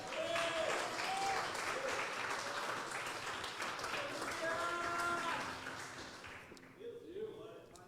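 A church congregation breaks into sustained applause, a dense wash of clapping that carries on with sung or instrumental tones above it, thinning out in the final seconds.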